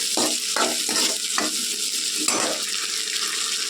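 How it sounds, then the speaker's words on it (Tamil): Onions cook in a pan for aloe vera kuzhambu, a loud steady sizzle with a run of quick scraping strokes from a stirring spoon early on, heard up close without speech. "வெங்காயம் எல்லாம் நல்லா வதங்கட்டும்."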